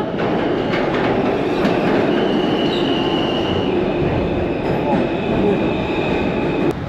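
A New York subway train arrives, filling the space with a loud, steady roar of rumbling wheels and rail noise, with faint squealing tones above it.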